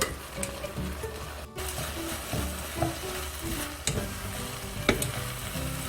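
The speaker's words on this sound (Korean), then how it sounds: "계속해서 국물이 없어질 때까지 볶아줘야 골고루 간도 배고 색깔도 골고루 이뻐져요." Braised burdock being stir-fried in a pan until its sauce cooks off, a close sizzle with frequent rhythmic stirring scrapes and spatula clinks against the pan, no talk.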